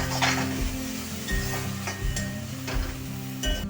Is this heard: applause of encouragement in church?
no